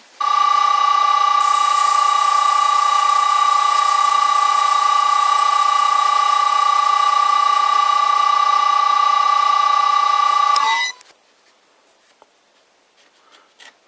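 A vintage Karger metalworking lathe driven by a variable frequency drive runs with a steady, loud whine and bright electrical tones for about eleven seconds, then cuts off abruptly, leaving near silence with a few faint knocks.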